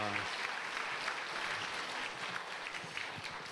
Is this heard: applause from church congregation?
yes